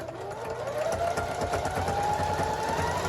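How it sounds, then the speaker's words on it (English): A sewing machine runs a quick zigzag stitch across a jelly roll rug, giving a steady loud mechanical whirring hum with rapid rhythmic needle clatter that goes on without a break and without talk. "So I just start sewing the zigzag real quick"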